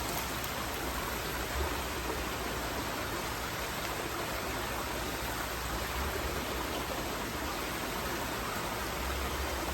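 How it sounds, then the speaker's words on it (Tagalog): Steady broadband rushing of a flowing river, constant and fairly loud throughout with no pauses, close by. "Ilog is river. River is ilog."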